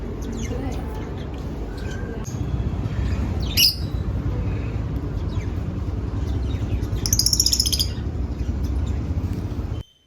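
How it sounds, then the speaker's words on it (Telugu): Small birds chirp and squawk in short bursts over a steady background rumble of ambient noise, with a brighter cluster of calls near the end. "ఇక్కడ లవ్ బర్డ్స్ అవి ఉన్నాయి చాలా బాగున్నాయి"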